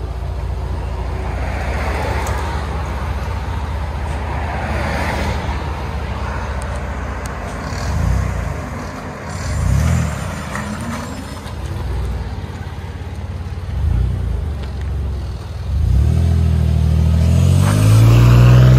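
Inside the cabin of a 2007 Dodge Nitro with a 4.0L V6 and a Black Widow Venom exhaust as it accelerates. A deep exhaust drone swells in several surges, then rises to a strong, loud rumble near the end.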